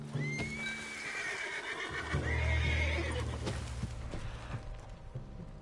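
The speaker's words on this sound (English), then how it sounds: "What's got this horse spook, huh?" A horse in Red Dead Redemption 2 spooks and whinnies loudly, a long rising-and-falling neigh, followed by snorting and hoof clatter, close up.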